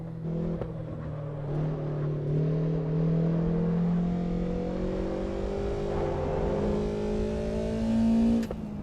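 A BMW M3 E30 engine revs in the Assetto Corsa EVO racing game, heard from inside the car: a steady, grunty drone whose pitch climbs slowly with a brief shift, alone and fairly loud throughout.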